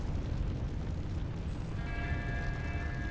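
Barrels and a bomb blow up in the action game Torchlight 2, a heavy rumbling blast that fills the start and fades into a sustained low roar with faint ringing tones.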